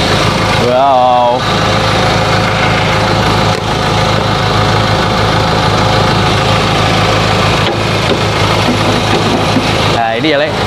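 A 2012 Ford Ranger XLT pickup truck engine idles with a steady low rumble close by, while a person talks briefly over it.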